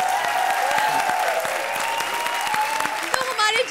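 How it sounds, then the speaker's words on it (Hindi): A studio audience at a TV comedy show claps loudly and steadily, a dense close wall of applause with music and a voice carrying over it. "लोग बजाओ ताली"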